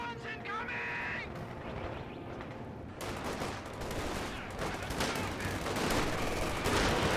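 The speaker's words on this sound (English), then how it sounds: "Panzerwerfer firing away" Panzerwerfer rocket artillery from Company of Heroes 2 fires in a dense barrage, a rising wash of rumbling blasts and crackling explosions that grows louder and fuller after a quieter opening with faint chirps.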